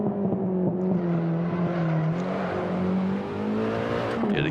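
A BMW E30 M3 engine in Assetto Corsa revs steadily with a loud, continuous tone whose pitch rises and falls slightly. No one speaks.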